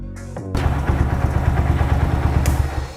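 A custom Yamaha Vega-based motorcycle engine chugs with a rapid, even thumping beat during a test ride, close and moderately loud, starting after a brief pause.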